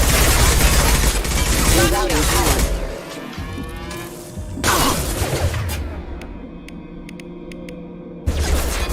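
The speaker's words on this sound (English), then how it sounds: "Shoot them before they take out the shield." Sustained gunfire in the video game Mass Effect 2, dense loud bursts of rapid shots that pause briefly and resume, with in-game voices speaking under the shooting.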